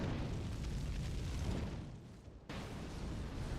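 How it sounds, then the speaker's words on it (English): Explosion in the video game Elden Ring: a sustained, dense rumbling roar that holds loud throughout, with a brief dip and a sudden renewed burst near the end. "cool guys don't look at explosions"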